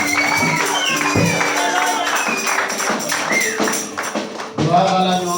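A church congregation at a Sunday evangelistic service cheers and acclaims together, a dense, loud wash of many voices shouting and ululating at close range with no single speaker standing out.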